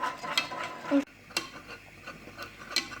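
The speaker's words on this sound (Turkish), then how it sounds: "Karıştıracağım hiç durmadan." A spoon scrapes and clinks around a pot of profiterole custard mixture on the stove in short repeated strokes, close and fairly quiet, with a faint sizzle underneath.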